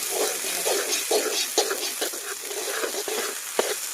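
A pot of chicken pulao curry sizzles and bubbles on the heat while a spoon stirs it with scraping clicks and stirring sounds, close and steady throughout.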